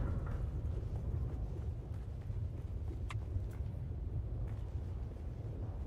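The Coriolis storm in the video game Dune sweeps the deep desert as a constant loud, windy low-pitched roar and groaning rumble, steady throughout with faint crackles on top and no talking.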